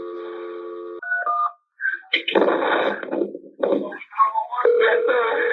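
Telephone sounds during a 911 emergency call transfer to ambulance dispatch: a steady dial tone, then a quick series of touch-tone dialing beeps, followed by ringing and line noise with brief tonal bursts, fairly loud and close on the line.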